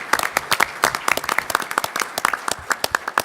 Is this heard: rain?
no